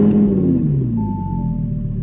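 A Gintani-tuned Audi R8 V10 supercar engine rumbles steadily and loud at close range, a deep sustained drone with a slowly falling tone and a faint higher whine joining midway, with no talk over it.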